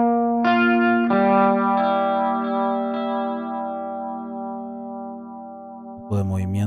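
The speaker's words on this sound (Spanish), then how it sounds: "Está cool este chorus." Clean electric guitar tone run through a chorus effect on a free virtual amp modeled on a Soldano SLO-100 and Laney TF300, with sustained strummed chords ringing out and gently shimmering, played alone, then a brief louder burst at the end.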